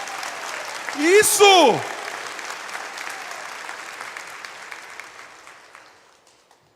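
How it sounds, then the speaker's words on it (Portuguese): A congregation at a religious sermon claps at length while a voice briefly calls out over the start, the applause slowly thinning and fading away. "Então aplauda, aplauda, aplauda."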